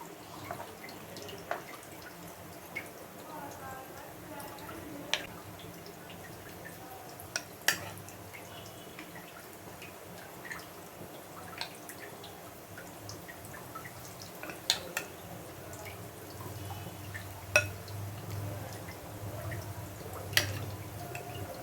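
Marinated chicken pieces fry in hot oil in a kadai for hotel-style lemon chicken. A faint, steady hiss runs throughout, broken by sparse, sharp pops and crackles that come every few seconds.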